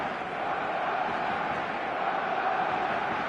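Stadium crowd in the eFootball video game on a clear evening before a showcase match, a steady, dense roar of many voices that stays loud and even throughout, with no distinct talk.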